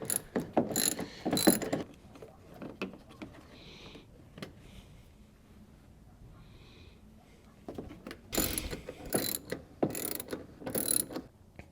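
Hand ratchet working 10 mm bolts under the tail light on a Nissan 350Z rear bumper, with bursts of rapid clicking near the start and again toward the end, a quieter stretch of fiddling in between.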